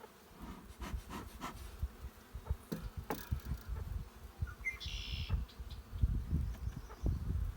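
Honey bees buzzing around an outdoor hive in a long, cold spring, a dense close droning hum with individual bees zipping past, steady and fluttering throughout.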